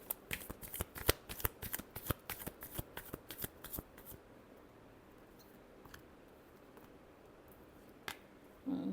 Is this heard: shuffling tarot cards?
yes